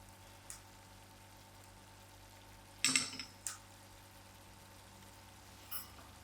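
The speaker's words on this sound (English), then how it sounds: "Always crack your eggs individually." Eggs are cracked one at a time into a pan of simmering Durban-style egg chutney; a faint sizzle underlies a sharp crack and splatter near the middle, with a few lighter taps before and after.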